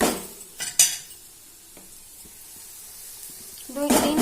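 Bitter gourd fry being stirred in a pan after adding salt, chili powder and sugar: a couple of sharp utensil scrapes and clinks near the start, then a quiet stretch of faint activity, then a louder burst of stirring at the end.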